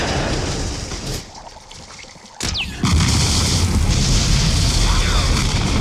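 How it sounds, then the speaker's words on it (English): Explosion in a 1990s Terminator 2 chase scene: a sudden loud boom bursts in after a brief quiet gap, then a sustained roaring rumble with debris and fire noise that stays loud to the end. "Let's watch this explosion."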